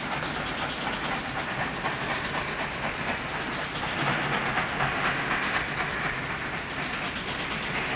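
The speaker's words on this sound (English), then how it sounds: "What are we waiting for? The second train." A steam train of the 1950s western era rolls past with a steady hissing roar and rhythmic clatter of wagons, loud and continuous throughout with no voices.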